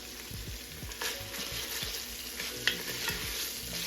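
Bacon crisps and renders its fat in a pan for Southern soul food green beans, a steady broadband sizzle with repeated stirring scrapes and clicks, close and continuous with no voices.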